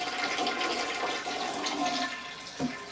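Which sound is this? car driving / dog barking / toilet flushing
toilet flushing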